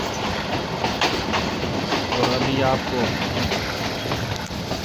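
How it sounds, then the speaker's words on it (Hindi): A passenger train on the Baldher to Havelian line rumbles along, heard from on board, with loud, steady wheel noise and rhythmic clickety-clack over the rails while someone talks. "ये देखते हैं कैसे ट्रेन घूमती हुई जा रही है।"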